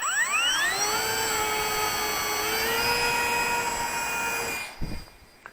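An electric motor and propeller on a TopRC A-1 SkyRaider 800mm RC warbird plane at 70% throttle rise to a loud, steady high whine close by, then fade quickly as the plane is launched and pulls away, followed by a few bumps.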